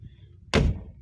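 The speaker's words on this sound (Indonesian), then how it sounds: "kanan ada tuas pembuka pintu, tarikan" A single sharp thunk as the interior opening lever of a freshly repainted classic car door is pulled, loud and close after a quiet moment.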